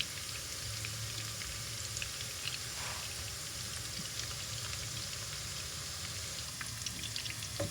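Onions frying in a pan, a faint, steady sizzle and crackle with no voices.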